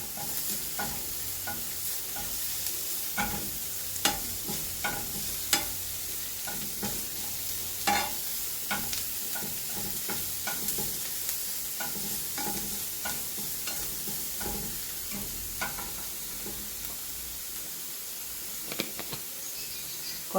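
Onion, carrot, ginger and garlic stir-fry in a pan for a spring roll filling, with a constant sizzle broken by repeated scraping stirs of a utensil, close and clear with no talking.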